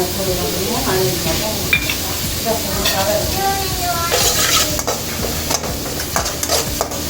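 Ginger garlic paste sautéing with onions in a pan for paneer butter masala, a steady sizzle under repeated spoon stirring and scraping, close and moderately loud, with no talking.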